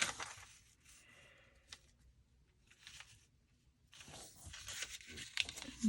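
Paper torn off a book page at a craft table, a few short rasping rips spread through a quiet stretch, close and fairly soft, with faint handling rustles between them.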